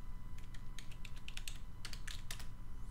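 Quick, light keystrokes and clicks on a computer keyboard and mouse while playing the online shooter Ghost Recon Online, coming in irregular bursts over a low steady hum.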